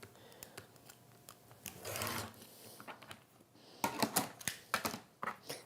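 Scissors or a rotary cutter slices thermal lunch bag material into strips, giving quiet, irregular crisp snips and rustles of the insulated fabric, close up, with a longer crinkling stretch midway.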